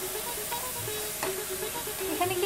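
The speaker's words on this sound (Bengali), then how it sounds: "এবার ভালো করে এটা কষে নিলাম।" Spice masala sautéing in a pan for a chhanar ambol curry, a steady close sizzle with scraping stirs running throughout, with no talk.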